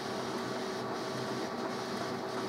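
An HP Color LaserJet 4650n printer runs after being powered on, producing a steady, even mechanical hum and whir with a faint tonal drone throughout, and no speech.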